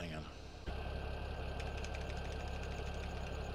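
A tractor engine runs steadily in Farming Simulator 17, a continuous low mechanical drone with a slight change in tone early on.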